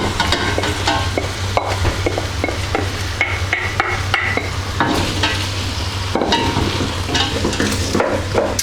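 Carrots and cabbage sizzle in a pan for a low-calorie vegetable soup, with steady frying hiss and frequent scraping, tapping stirs close by, no voices.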